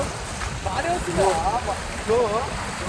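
Lake water overflowing a weir rushes in a steady broadband roar with wind buffeting, close and loud, as a voice speaks briefly over it.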